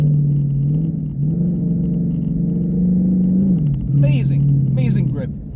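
A 2016 Ford Mustang GT on Bridgestone Blizzak WS90 winter tires accelerates on a snowy road, its steady low engine drone rising slightly in pitch, with someone talking over it throughout.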